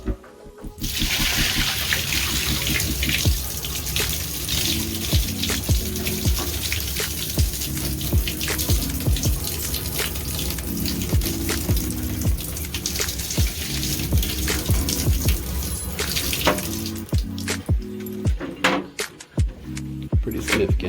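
Water from a Keystone KSTAD50B dehumidifier bucket pours and splashes steadily into a basin for most of the stretch, a continuous gushing rush with some clatter near the end.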